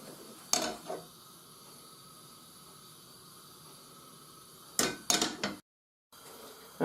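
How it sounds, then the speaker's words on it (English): A frying pan is handled on the stove before vegetable oil heats in it, giving a sharp metallic clank, then a quick cluster of clatters later over a steady background hiss. "Let's get the frying pan. Frying pan, quite hot, vegetable oil."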